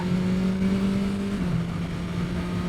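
BMW S 1000 R sports motorcycle engine pulling hard while ridden, a loud sustained tone that rises slightly and then drops as the revs change, with steady wind and road roar underneath.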